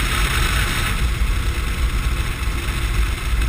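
A KTM 1090 Adventure R motorcycle with a 125-horsepower engine runs steadily on a windy forest road in winter, a loud, constant engine drone mixed with wind rush and no break in the sound.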